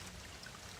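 A small spring trickling beside the Appalachian Trail at Dripping Rock Parking Area: a faint, steady watery babble and patter, quiet and continuous with no voices.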